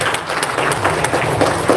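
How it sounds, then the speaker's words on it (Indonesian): An audience at an Indonesian religious talk applauding, a loud, close, continuous patter of many hands with no talk. "Tepuk tangan dong"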